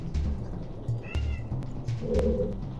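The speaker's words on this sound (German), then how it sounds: "Ja, Katze, dich mag ich auch." A cat meowing in a video game, a short mewing call over steady game background sound, with a German-speaking gamer's voice nearby.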